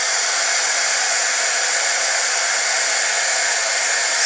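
A heat embossing gun blows a steady, loud, even hiss and whir without a break as it heat-sets embossing on a Christmas card.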